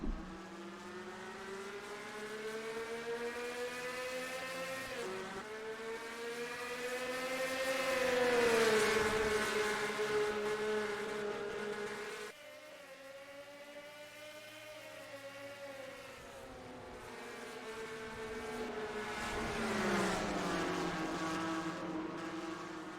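Race car engines in an oval racing video game at Lucas Oil Indianapolis Raceway Park, several cars droning and revving at the start of a 60-lap race, steady and moderately loud with rising and falling pitch.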